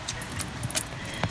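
Metal keys jangle briefly as they are hung on a hook inside a compact off-grid camper van, a few light scattered clinks close to the listener.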